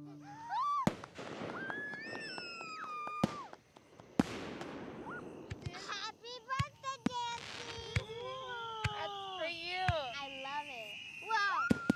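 Distant fireworks in a film scene crackle and pop in scattered bursts, sharp cracks breaking through amid children's voices and tonal whistles.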